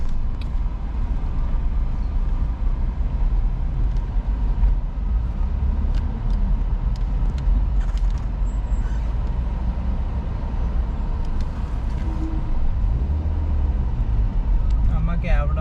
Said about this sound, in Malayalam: ലോറിയാ ഫ്രണ്ടിൽ ലോറി, നല്ല ലോറി തിരക്കാ കേട്ടോ.